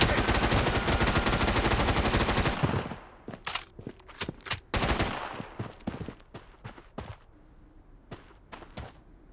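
Gunfire from the battle-royale shooter Blood Strike opens with a sustained, loud burst of rapid automatic fire, then breaks into scattered sharp single shots and short volleys with quieter gaps between.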